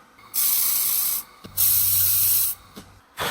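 A laser welder tacks metal seams in three sustained hissing bursts, each a loud, airy rush with a faint low hum beneath and brief quiet gaps between them.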